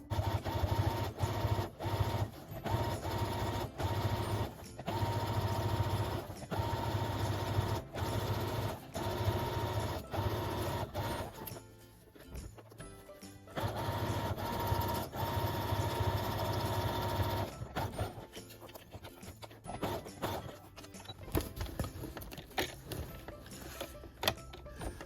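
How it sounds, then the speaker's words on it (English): A sewing machine stitches the edge of a zipper pouch made from beige canvas and upcycled lingerie, running in steady rhythmic bursts with short pauses between runs, close and clear. "going to sew down here"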